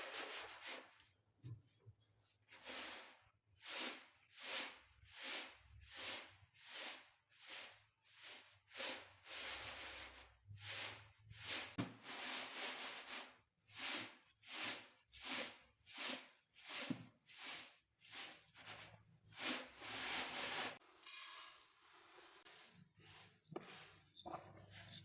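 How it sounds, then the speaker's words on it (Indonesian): Rice grains are winnowed in a tray, producing a steady rhythmic series of rustling, hissing swishes, roughly two per second, close and fairly quiet, pausing briefly midway before resuming. "akan aku tempi dulu berasnya ya"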